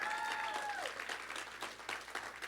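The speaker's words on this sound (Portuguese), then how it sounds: "Vamos dar um aplauso ao Senhor também pelos visitantes" Applause from a church congregation at a family worship service, uneven clapping that swells and thins in bursts, while a sustained sung or electronic tone glides downward at the start and a faint low hum runs underneath.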